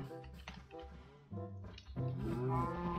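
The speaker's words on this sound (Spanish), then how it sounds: "Vamos a darle el trigo a las vacas." Cows mooing in Minecraft on a farm as wheat is fed to them, several drawn-out lowing calls overlapping in close succession, loud and steady through the whole stretch with game music or other animal sounds mixed in.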